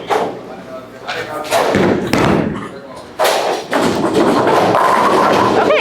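Bowling ball, a Hammer Special Effect with solid coverstock, released onto the lane with loud thuds, then a long rolling rumble that drops off and resumes in a second rolling roar, close and strong.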